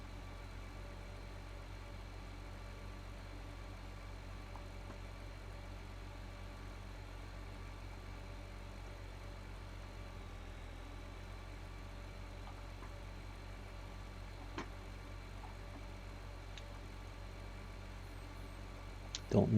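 A combine harvester in Farming Simulator 2013 on the USA map drones steadily in turbo gear, a low, even, faint engine hum with constant tonal layers, briefly joined by small clicks near the end.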